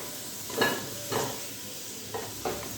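Fried raw papaya pieces lifted out of hot oil, a soft sizzle under four brief scraping clinks of a spoon against the pan, fairly quiet and close.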